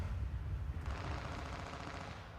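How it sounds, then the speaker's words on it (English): Rapid gunfire and explosions in the battle royale video game H1Z1, a dense continuous barrage that grows harsher and brighter partway through, loud and sustained with no talking. "Okay, there's explosions going on now."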